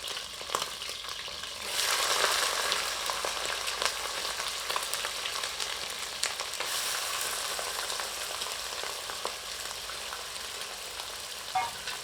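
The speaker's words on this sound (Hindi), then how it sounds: "आंच को तीव्र कर लेते हैं और मुर्ग के टुकड़ों को इस तेल में 3 से 4 मिनट तलते हैं" Chicken pieces for a Mughlai korma fry in hot oil over high heat, a steady close sizzle that surges after a couple of seconds, dotted with sharp pops and stirring clicks, no talking.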